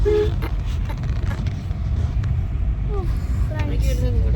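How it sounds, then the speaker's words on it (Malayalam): A vehicle in front of a school van sounds its horn in a few short toots over the rumble of road traffic and engine noise, with people talking nearby. "ഫ്രണ്ടിൽ വണ്ടി വന്നു ഹോൺ അടിക്കുന്നത്."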